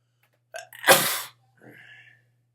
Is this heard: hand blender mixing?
no